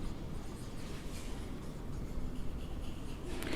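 Marker or chalk scratching across a board as a networking lesson is written out, a steady continuous rubbing drone that runs without pause, close and fairly loud.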